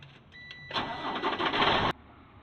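A truck's diesel engine cranks and catches, rising abruptly into a loud, steady rumble for about a second before cutting off, with faint tones audible beforehand.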